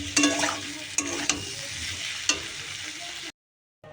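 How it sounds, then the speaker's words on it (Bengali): Fish sizzling and being stirred as it is sautéed in a pan for a Bengali fish curry, a steady close fry with a few sharp spoon scrapes, then cutting off abruptly into silence near the end. "এটাকে আগে কষে নিই সুন্দর করে কষে তারপর জল দেবো"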